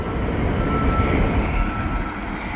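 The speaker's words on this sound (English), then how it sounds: "there is another train coming" A slow-moving freight train rolls past close by, a loud, steady low rumble of wheels and cars with a faint whine above it and no voices.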